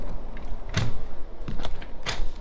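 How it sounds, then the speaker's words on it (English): A strong aluminum door on a ranch-style mobile home in Texas is handled, giving a few close metallic clacks and knocks spaced over about two seconds against light background noise. "an aluminum door, a very strong aluminum door"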